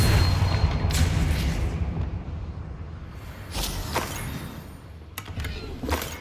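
The Depulso force-push spell in Hogwarts Legacy bursts out in several sharp, booming blasts spaced a second or two apart over a low rumbling game background.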